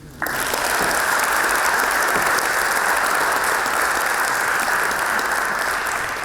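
Loud, sustained applause from a large audience at the Oxford Union begins abruptly and continues evenly, dense clapping filling the space without talk.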